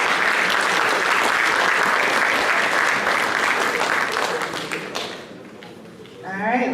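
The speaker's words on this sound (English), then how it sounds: "Please give them a round of applause." Applause from an audience at a high school football championship ring ceremony, loud dense clapping that fades out over the last couple of seconds before a voice begins.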